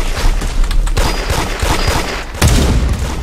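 Loud, dense bursts of automatic gunfire rattle almost without pause in a video game shooter, with heavier booming shots standing out near the start and again toward the end.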